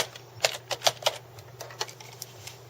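Keys clack on a keyboard while text is entered for a REINER JetStamp 790MP stamp, with quiet, uneven taps in short clusters over a faint steady hum.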